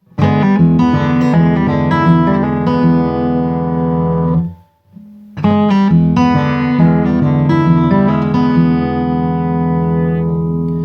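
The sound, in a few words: guitar downstroke flick with fingernail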